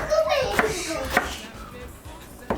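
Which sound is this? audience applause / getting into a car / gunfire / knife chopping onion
knife chopping onion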